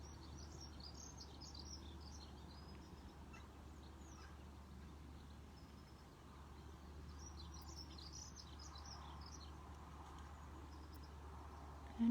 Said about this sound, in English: And just hearing the songs of the birds, how beautiful they are.